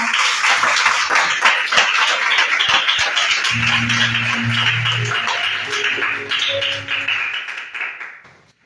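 A worship congregation claps vigorously, hard sharp hand claps close and loud, joined midway by sustained keyboard chords, fading out at the end.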